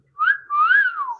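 A person whistles a catcall at someone: two tonal swoops, a short rising note then a longer rise-and-fall glide, clear and close with no talk.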